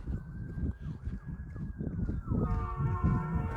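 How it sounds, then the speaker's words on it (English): Wailing sirens rise and fall in repeated sweeps, then shift to steady overlapping tones, moderately distant over a low rumbling background. "there's sirens going on right now. Interesting sirens, huh?"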